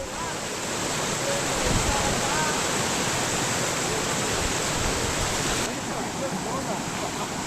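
Rainwater floods through paddy fields and areca plantations after heavy rain, a dense, steady roar of rushing water filling the whole scene at constant loudness.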